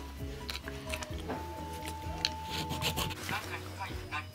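Rasping, scraping strokes as the plastic interior seat underside of a Majorette die-cast Dodge Challenger SRT Hellcat model car is shaved down, close and steady, under background music.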